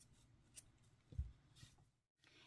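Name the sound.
scissors cutting yarn after crocheting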